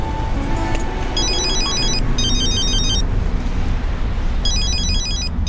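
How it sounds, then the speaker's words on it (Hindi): A telephone rings in repeated electronic bursts, three separate trills of ringing over a steady background hum, fairly close and clear, with no talk over it. "तुम्हारा फोन बज रहा है।"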